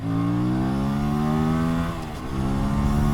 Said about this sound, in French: pourquoi est-ce que ce moteur me fait penser à celui d'une RS 660? Écoutez bien.